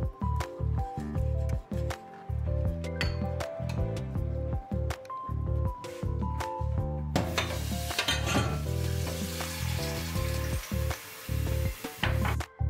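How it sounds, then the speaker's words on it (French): A spoon stirs a thick, creamy mixture made with medjool dates, producing repeated wet squishing and scraping strokes up close in an uneven rhythm, with a brief louder sizzly patch midway. "Je continue de bien remuer et quand j'obtiens une texture crémeuse et onctueuse"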